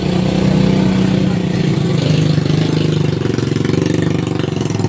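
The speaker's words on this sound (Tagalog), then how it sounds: "Grabe ang ingay ng motor." The motor of a Centrix stand fan with a broken flower lock runs noisily nearby, giving a loud, continuous rattling hum with a rough pulsing beat throughout.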